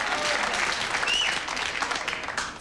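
A studio audience applauds steadily at a 1990 television talk show, a dense, even wash of many hands clapping at close range, holding loud for the whole stretch and easing only slightly at the end.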